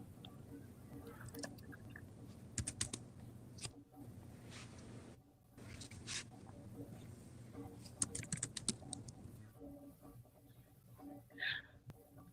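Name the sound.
typing on a computer keyboard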